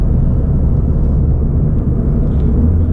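Ford Fiesta ST engine and small turbo droning steadily on a night drive along backroads, a continuous loud low rumble from inside the cabin with no break, the car having a worn passenger-side motor mount.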